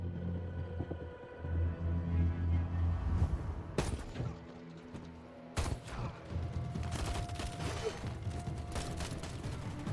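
Gunfire during a brutal firefight scene from Reacher, with sharp bursts of shots and two heavy cracks standing out over rumbling, mechanical background noise in a tense action mix.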